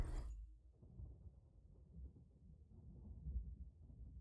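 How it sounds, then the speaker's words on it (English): Thunder in the video game Just Cause 4, a faint, deep rolling rumble that sets in after a brief soft crackle and keeps grumbling low and steady for several seconds. "Thunder and lightning, very, very frightening."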